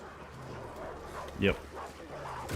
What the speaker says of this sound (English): This is where all the dogs show up